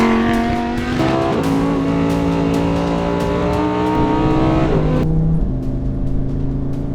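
Lamborghini Huracan Tecnica engine, direct port injected and without particulate filters, roaring loud and close, with sustained high revs, pitch shifts as gears change, and a sharp drop in tone near the end as the throttle lifts.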